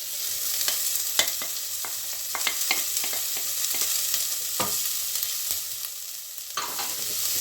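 Chopped ginger frying and being stirred in a pan for mooli paratha stuffing, a steady close sizzle broken by sharp scraping clicks of the spoon at irregular intervals, with no voices.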